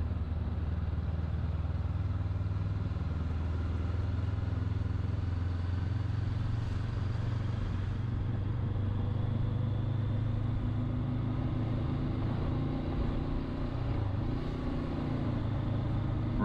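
A motorcycle rides steadily out of a village on the A428 along an old turnpike route, its engine a constant close rumble with wind noise, rising slightly in pitch near the end with no talking.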